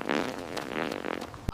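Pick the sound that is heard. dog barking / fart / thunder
fart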